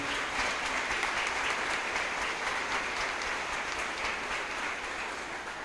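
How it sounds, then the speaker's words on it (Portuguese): A Catholic charismatic congregation in Cachoeiro applauds after a Gospel reading, a continuous fairly distant wash of many hands clapping, even and sustained, with no voices on top. "Vamos aplaudir a palavra de Deus, a palavra do Santo Evangelho"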